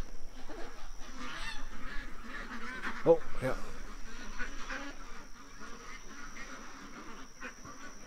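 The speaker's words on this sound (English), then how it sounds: "The ducks are freaking out" Agitated ducks near a back deck quack and honk in a busy, overlapping chorus, loud and close, with a brief spoken remark mixed in.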